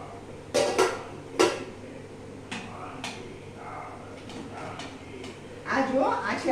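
A steel plate of khatta white dhokla is lifted out of a steamer after about thirty minutes of steaming, giving a few sharp metallic clanks and scrapes close by against a steady low background.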